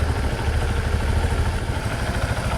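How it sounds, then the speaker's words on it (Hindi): A Bajaj Platina 100 motorcycle engine idles steadily after piston ring fitting, a close, continuous low rumble with even clatter and no talk. "तो देखिए बाइक जो है अभी स्टार्ट है"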